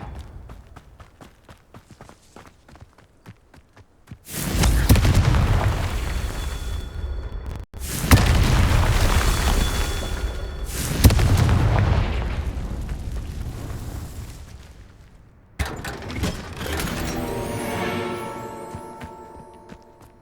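Confringo spell explosions burst in the Hogwarts Legacy video game: a few quick taps, then several loud booming blasts with long rumbling tails, ending in a ringing, crackling burst.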